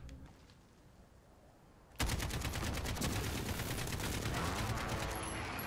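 Sustained automatic gunfire from the Call of Duty Modern Warfare video game breaks out abruptly after a quieter stretch and continues loud and dense to the end.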